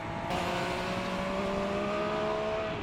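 MV Agusta Superveloce motorcycle engine running between buildings, a steady loud drone echoing off nearby walls with no talk over it.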